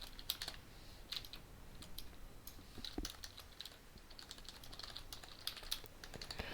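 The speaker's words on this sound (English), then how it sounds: "It's because I like mechanical keyboards. I like the clickety-click sound of them." Quiet, close typing on a mechanical keyboard, with sharp irregular key clicks and occasional heavier strokes forming a continuous clattering patter, heard alone with no talking.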